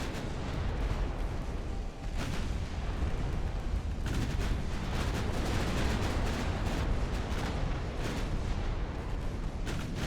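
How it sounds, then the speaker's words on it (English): Continuous heavy naval artillery fire in Ultimate Admiral: Dreadnoughts, battleship guns booming against a battlecruiser in a dense, loud barrage of overlapping blasts and rumbling impacts that barely lets up for ten seconds. "Keep firing until that battlecruiser is dead"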